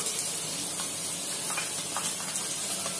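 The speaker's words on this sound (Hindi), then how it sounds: "अब मैं इसमें दही डालूंगी।" Curd (yogurt) hits a hot pan of spiced soya chunks pulao, giving a steady, close, bright sizzle and hiss with faint crackles and no talking.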